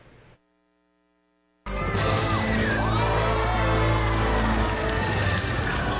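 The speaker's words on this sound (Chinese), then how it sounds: "现场的欢呼声和快门声不断" A large outdoor crowd cheers loudly and steadily at a giant cartoon balloon parade on a city boulevard, starting abruptly after a brief quiet hum and continuing as a dense roar.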